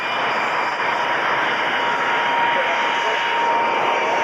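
An Aero L39 jet flying an airshow display at Cranfield in 1998 produces a loud, steady broadband roar that holds without a break, while a voice talks faintly underneath.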